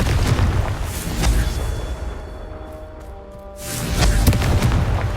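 A Confringo blasting spell erupts in Hogwarts Legacy as a loud, booming blast with a rumbling tail, followed after a brief lull by another heavy burst of noise.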